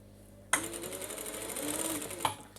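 Sewing machine stitching a trouser leg, a sudden start into a fast, close, steady mechanical whirr with rhythmic clatter lasting about two seconds.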